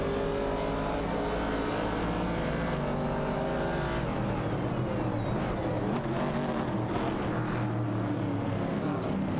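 Vintage muscle cars, a Pontiac Firebird and a Dodge Challenger among them, battle in a racing video game, engines droning and revving loudly and continuously, with the tone shifting as they accelerate.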